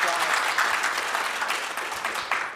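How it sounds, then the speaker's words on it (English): A crowd claps in a dense, steady burst of applause at an anniversary celebration for a justice and peace organization, sustained and fairly loud throughout. "Round of applause."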